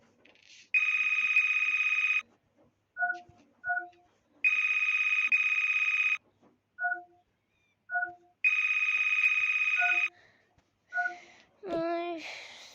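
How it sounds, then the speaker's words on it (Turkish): An electronic alarm rings in three long, shrill bursts, separated by short beeping tones, followed by a voice shouting at the end. "Susun be alarmlar."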